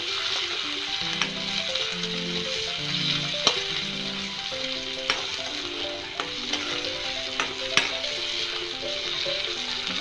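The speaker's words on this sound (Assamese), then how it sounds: "বিলাহীখিনি গলি নোযোৱালৈকে ভাজিব লাগিব।" Steady sizzling of tomatoes frying in a pan, with occasional sharp pops and light clinks, continuous and close.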